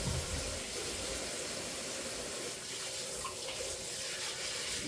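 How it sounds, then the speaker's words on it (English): Hands are washed under a running kitchen tap, a steady, even rush of water splashing close by for a few seconds, with no talking. "Let me wash my hands and I'll be back."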